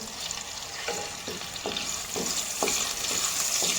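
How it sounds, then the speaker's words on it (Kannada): Neem leaves sizzle in hot oil in a pan for a Maggi noodle dish, a continuous frying hiss broken by a regular series of scraping stirs roughly every half second. "ಫ್ರೈ ಮಾಡಿಕೊಳ್ಬೇಕು"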